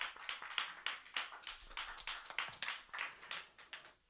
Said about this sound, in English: Let's give a nice, if you're at home, a nice round of applause, please, for this incredible band